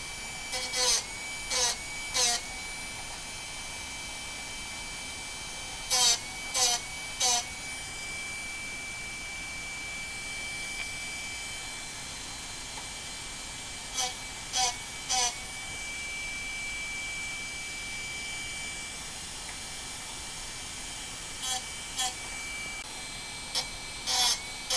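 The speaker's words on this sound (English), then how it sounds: "let's sharpen this masonry bit" A Darex Drill Doctor 750X resharpens a carbide masonry drill bit, a steady low motor hum running throughout with short clustered bursts of grinding scrapes repeating in groups of three, fairly faint and without talk.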